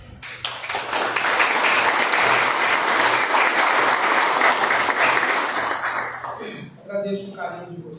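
Applause from a live audience after a closing prayer at a spiritist lecture, sustained dense clapping for several seconds that fades out near the end as a voice begins speaking.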